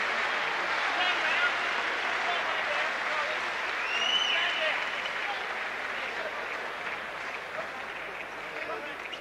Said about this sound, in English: the crowd are giving him the applause that he deserved